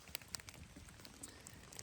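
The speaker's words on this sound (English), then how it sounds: "It's raining pretty steady now" Steady overnight rain falling outdoors near dawn where a camper lies in mud beside a small dying fire; a soft, faint hiss with scattered sharper drop ticks, no voices.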